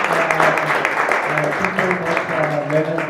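Crowd applause at a youth club gathering, greeting three people who asked questions: a dense, steady wash of clapping that runs the whole time beneath a speaking voice.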